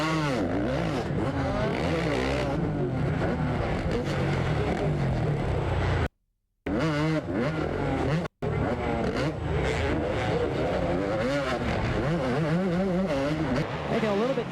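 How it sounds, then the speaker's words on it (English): A four-stroke Honda supercross motorcycle races at an AMA Supercross event, its engine loud and continuous with rising and falling revs across the clip. The roar is interrupted by two brief dropouts, and commentary talk runs underneath. "you want to see that new four-stroke Honda? There it is. You can hear it."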